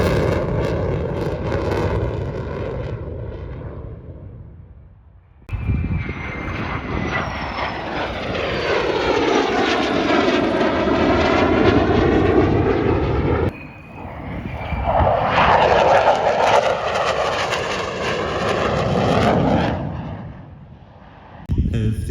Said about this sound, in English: Solo Turk now starts its practice display.